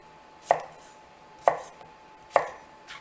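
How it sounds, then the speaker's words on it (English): A knife cuts a vegetable into rough half-inch cubes on a board, giving three sharp, evenly spaced chops about a second apart, each a crisp thud, close and clear against near silence. "I'm just going to do kind of like a rough half-inch cube."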